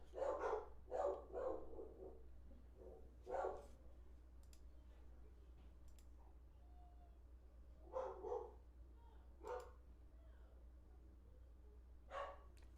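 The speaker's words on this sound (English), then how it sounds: "If you can hear my dog, excuse us for a bit." A pet dog barking in a quiet room, a series of short, sharp barks in clusters separated by pauses, somewhat distant and faint against a low hum.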